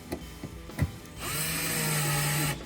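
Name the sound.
right angle drill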